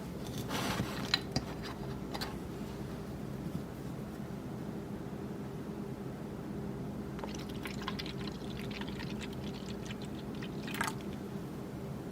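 Half a cup of yeast starter made with Tupelo honey mead must is stirred in a container, soft liquid swishes and occasional utensil taps sounding quiet and close over a low steady hum.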